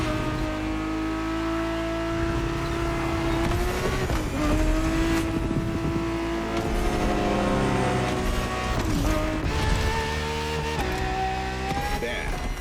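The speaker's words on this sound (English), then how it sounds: "365 GTB4 is the perfect vehicle for you to experience Ferrari racing as it felt back in the 70s" Ferrari 365 GTB4, a 1970s racing car, driving hard on a track: a loud, sustained engine roar rising and falling through gear changes and revs, heard up close and continuously throughout.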